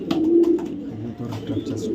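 A young light-coloured male racing pigeon coos in low, throaty rolling phrases, close by, with a few faint clicks and rustles between the coos.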